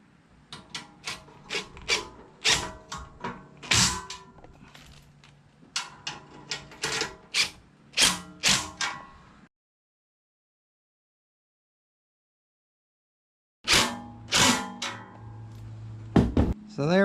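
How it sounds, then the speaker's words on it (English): Bolts on the legs of a universal bench grinder stand being tightened: repeated metallic ratcheting and clanking bursts, close and rhythmic, broken by a long silent gap before the clatter resumes. "now we'll go around and tighten up each one on each leg"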